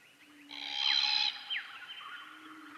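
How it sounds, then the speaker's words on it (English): A single harsh, screechy cockatoo call rises and fades against quiet background hiss, followed by a softer trailing call. "Some cockatoo calls."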